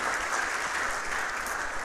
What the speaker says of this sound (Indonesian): boleh beri tepuk tangan untuk Tuhan yang keras